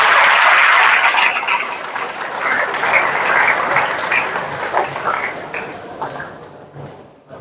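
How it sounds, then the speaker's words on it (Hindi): Students at a motivational study seminar clap loudly for themselves, a dense burst of applause that is strongest at first and gradually thins and fades out. "एक बार अपने लिए जोरदार तालियां बजा लें"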